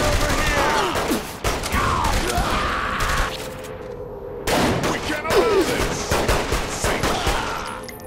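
Dense bursts of gunfire from a Saints Row The Third shootout, rapid overlapping shots filling most of the clip with a short lull midway, loud and close, with game voices mixed in.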